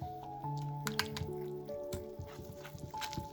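Coconut milk added by the spoonful and stirred into a pancake-style batter, giving soft wet squelches, drips and light scraping clicks in an irregular rhythm, close and fairly quiet, with faint tonal background sound.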